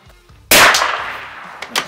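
A Mauser M12 Max deer rifle fires once, a loud sharp crack close by that rolls off into a decaying echo, followed by a faint smaller report.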